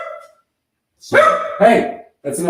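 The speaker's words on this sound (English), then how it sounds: "Sorry, that's my dog." A dog barks in two or three loud, close bursts, with someone talking over and between the barks.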